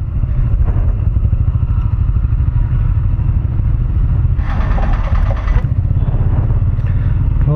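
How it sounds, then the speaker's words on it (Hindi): A motorcycle running low on petrol rumbles along the road, its engine a loud steady low drone close to the rider, with a brief rattling clatter midway and no talk. "बाइक में पेट्रोल थोड़ा कम है"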